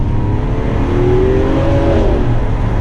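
A Lamborghini Aventador drives under load, its loud engine droning close with a rising pitch sweep as it revs through the gearbox.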